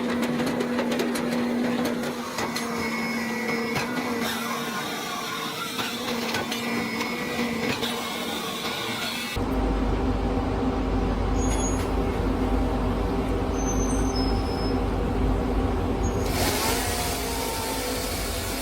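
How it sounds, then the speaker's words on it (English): TM1200 and TB900 firewood processing machines run in a timber yard, a loud, continuous mechanical drone with a steady hum that shifts to a heavier, lower roar partway through, with no talking. "The TM1200 and TB900 machines run continuously in the timber yard, creating an unceasing high-efficiency firewood processing line."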